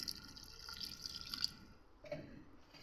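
Water poured from a glass into a pan of soya bean curry, heard as soft, close trickling and dripping splashes for a few seconds with no talk.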